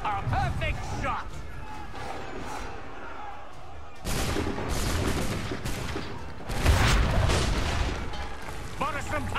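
Cannons boom in an Assassin's Creed III battle, with heavy blasts and rumbling fire that swell twice over a dense battlefield din while voices talk throughout.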